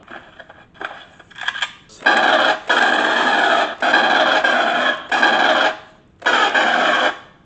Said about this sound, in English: And of course the M41 pulse rifle.